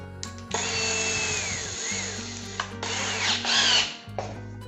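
A power drill drives screws into a melamine drawer during assembly, running in steady whirring bursts with brief pauses and pitch shifts as each screw seats, close and loud with no talking.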